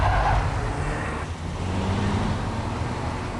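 Car accelerating through a corner while the front end washes wide in understeer, a steady close engine drone with road and wind noise, pitch dipping briefly and then holding.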